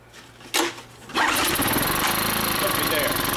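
A Mercury 70 hp two-stroke outboard motor on choke gets one sharp pull-start attempt, then catches on the next pull and settles into a loud, steady buzzing run, close by.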